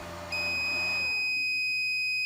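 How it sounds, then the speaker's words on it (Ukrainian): A 10 kW 24 V inverter beeping on a startup attempt: a sudden shrill, steady electronic tone with a background hum that drops away, leaving the high beep ringing alone and clear. "Є спроба запуску і він щось пищить."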